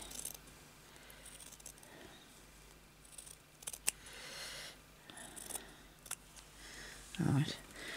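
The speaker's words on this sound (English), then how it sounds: "These are pretty good scissors. So I'm going to cut along here" Scissors snip through material for a snap closure, with a few sharp, close clicks and cuts spread out under a quiet voice, and a louder handling bump near the end.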